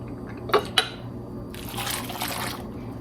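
A cup of apple cider is poured into a crock pot for cranberry apple butter. Two sharp clinks of the cup come first, then a steady, close splashing pour with no talking.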